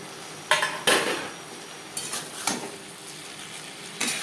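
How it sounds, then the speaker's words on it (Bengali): Fried mourola fish being mixed into a potato gravy in a pan, with several distinct scraping clinks of a utensil against the pan at irregular intervals over a faint background, no talking. "গ্রেভির সাথে মাছ বেশ ভালো করে আলুর সাথে মাছ বেশ ভালো করে মিক্স করে দেব"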